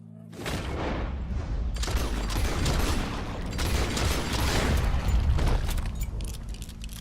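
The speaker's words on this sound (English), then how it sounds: "He shot the thing!" Gunfire and booming shots in Red Dead Redemption 2 during a tense encounter with a wild beast, a dense loud barrage with mechanical clatter running continuously for several seconds, with a brief voice near the start.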